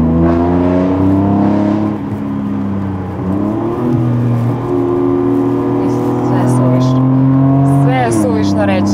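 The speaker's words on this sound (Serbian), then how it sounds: "Ajmo sad da vidimo kako se auto čuje." A BMW M3 driving and accelerating on a winding road, its engine loud and close with a steady, rising tone that dips briefly and then climbs again as it revs, heard from inside the car with a window slightly open.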